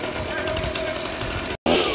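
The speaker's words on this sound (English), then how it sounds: "Cold start leaf blower." A leaf blower cold starts and runs with a loud, rattling two-stroke buzz, cut briefly near the end, with voices underneath.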